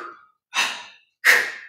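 Two forceful, rapid exhalations of breath of fire yoga breathing during a vinyasa class, each a loud, close, breathy burst about half a second long, after a short fading breath and with silent gaps between them.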